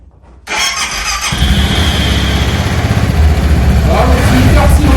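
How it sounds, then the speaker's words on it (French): A Voge 650 DSX single-cylinder motorcycle engine cranks and catches after a brief quiet start, then settles into a steady, throbbing idle close by, growing slightly louder. "Le moteur, je vous le fais écouter."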